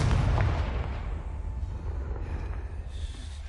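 A Confringo explosive spell cast in the video game Hogwarts Legacy, heard as a loud booming blast at the start that rumbles and fades into a low sustained roar.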